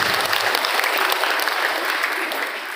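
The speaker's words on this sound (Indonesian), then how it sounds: "Tepuk tangan buat kita hari ini." Steady, dense applause from an audience of parents at an Islamic boarding school parenting event, loud and continuous throughout with no pauses.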